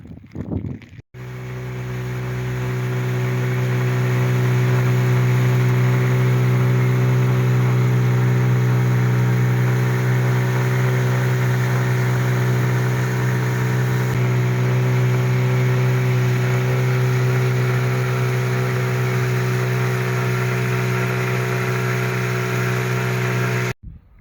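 A motor boat's engine drones steadily on the river during a long trip from Ust-Kut to Yakutsk, a loud, continuous mid-pitched hum holding almost unchanged after a brief start.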